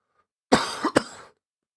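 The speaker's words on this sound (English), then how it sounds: "Sorry, I'm doing a lot of coughing." A single person coughs twice in quick succession, close and fairly loud, a short harsh burst followed by a second rough cough, with silence before and after.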